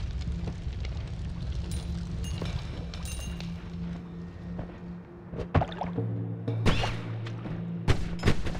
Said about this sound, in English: Okay, shooting.